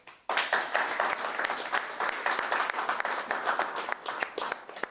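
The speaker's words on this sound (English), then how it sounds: "another big round of applause for Auke." Audience applause at the close of a HaskellerZ meetup talk on exact real numbers, steady dense clapping from a room of listeners for about five seconds, starting abruptly and tapering slightly at the end, with no talking over it.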